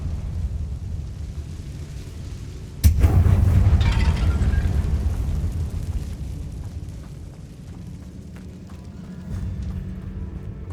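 A Confringo spell explosion in Hogwarts Legacy, set inside a tomb, lands as one sudden loud blast that fades into a long rumbling decay, with no talk over it.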